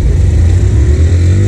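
A loud carbureted Honda Titan 150 motorcycle engine revs steadily for a moment, a close, buzzing mid-pitched roar with no voices.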